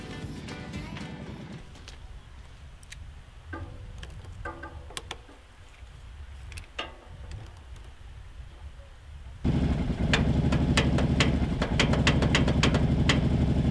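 An ATV four-wheeler engine starts up and runs at a steady, close idle after a stretch of quieter shuffling and knocking sounds.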